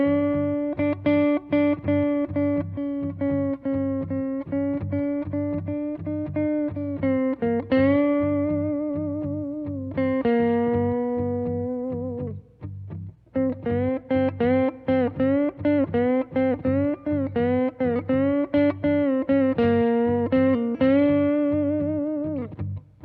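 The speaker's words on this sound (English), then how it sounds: "I'm going to kind of overbend and then slowly bring it down" Electric guitar with a distorted, effects-laden tone plays sustained notes that are overbent and then eased slowly back down in pitch, with wavering microtonal slides between phrases, loud and close throughout with a brief dip midway.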